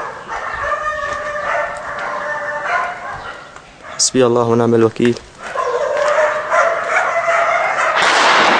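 A dog barks and yelps in a war-damaged town of Beit Sahm in rural Damascus, short repeated barks mixed with outdoor noise, while someone speaks loudly over it.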